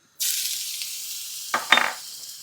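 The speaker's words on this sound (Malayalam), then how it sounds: "നമ്മുടെ പാനിലേക്ക് ലേശം സൺഫ്ലവർ ഓയിൽ ഒഴിച്ചു കൊടുക്കുക കടുക് അങ്ങനെയുള്ള കാര്യങ്ങളൊന്നുമില്ല നേരെ ഇഞ്ചിയും വെളുത്തുള്ളിയും" Chopped ginger and garlic hit hot sunflower oil in a pan with a sudden loud sizzle that holds steady, followed by a couple of brief stirring clatters near the end.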